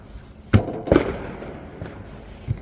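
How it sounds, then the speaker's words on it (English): Fireworks explode outside, with two loud close bangs in quick succession and then fainter scattered pops and thuds. "Here we go with the fireworks again."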